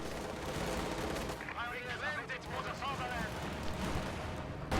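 Artillery bombardment rumbles in a strategy video game as a dense, continuous wash of booms and blasts, with a commentator talking over the top.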